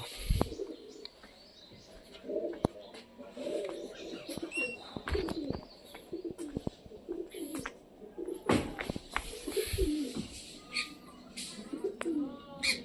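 Several pigeons coo low and close, with soft chirps and sharp knocks and taps scattered throughout. There may be occasional brief wingbeats, and the sound swells and dips across the stretch.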